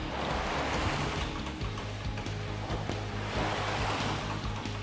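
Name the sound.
rowing machine in use during gym induction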